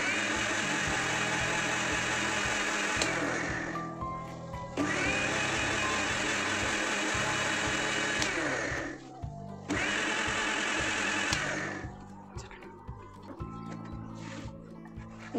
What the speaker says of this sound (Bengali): এবার একেবারে শেষের যেই অংশগুলো ছিল সেগুলো ব্লেন্ড করে নিয়েছি আমি